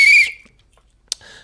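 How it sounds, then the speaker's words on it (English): A referee-style whistle, blown during a reaction to a Barcelona vs. Real Madrid El Clásico match, gives one loud, shrill blast of about a quarter second, followed by quiet, a sharp click and faint noise. "So where's my whistle, man? Where's my whistle?"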